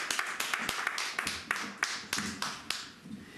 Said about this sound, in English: Please clap for him as he comes forward.